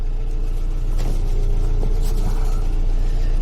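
GAZ 21 car being started, a loud close mechanical rattle and clunking of the engine and starter over a constant low hum, with sharp clicks scattered through.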